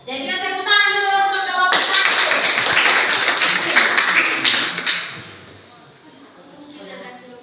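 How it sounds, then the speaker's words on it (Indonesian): A classroom group bursts into clapping for the first student group in a teaching-practice lesson, right after a voice speaks. Several seconds of dense hand applause taper off into quieter room sound. "Jadi kita tepuk tangan dulu untuk kelompok 1"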